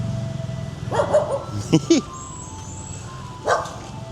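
A small dog on a street in Da Nang, Vietnam gives a few short yips and barks near the camera, with someone talking over the quiet street background.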